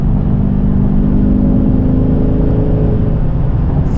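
A BMW 335 engine running, a steady loud low rumble and whir held evenly throughout, close up with no talking.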